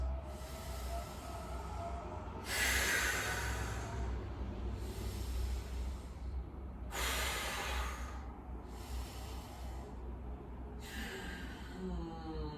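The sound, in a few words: deep breaths during yoga leg lift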